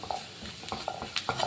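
Chilli powder being stirred into a half-sautéed mixture in a pan for a dried shark thoran, with soft sizzling and a few clinks of a spoon against the metal.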